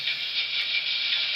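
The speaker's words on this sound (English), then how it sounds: "What you hear was the dynamo whine a little bit." Broadway Limited C&O J3a 4-8-4 model steam locomotive with its headlight dynamo running, giving a steady high-pitched hissing whine that holds at an even level close up, with no talking over it.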